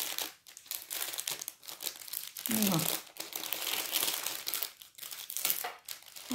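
A plastic bag crinkles and rustles as it is packed away with a pen during card crafting, close and irregular, with brief crackling bursts and a short spoken word.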